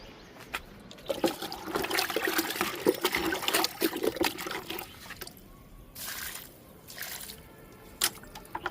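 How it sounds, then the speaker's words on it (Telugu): Liquid is poured into the pot of an indoor Song of India plant, a few seconds of close splashing pour followed by softer trickles and drips. "లిక్విడ్ ఇచ్చాను సాంగ్ ఆఫ్ ఇండియాకి."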